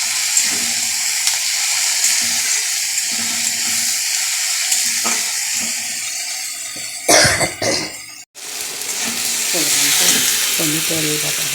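Water is poured into a pan of sizzling vegetable curry with ginger, garlic, tomato and onion paste, producing a steady hiss that bursts into louder splashing and bubbling partway through before settling into continued sizzling, with quiet talk underneath.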